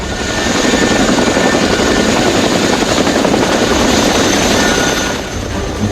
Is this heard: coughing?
no